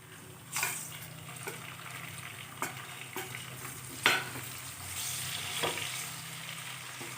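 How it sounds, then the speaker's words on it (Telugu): Tomato pieces dropped into ginger garlic paste frying in a pan set off soft sizzling, with a few sharp clatters and stirring scrapes over a low steady hum, no talking. "అల్లం వెల్లుల్లి పేస్ట్ ఫ్రై అయ్యాక మీడియం సైజ్ టమాటా ఒకటి ముక్కలు కట్ చేసుకుని వేస్తాం"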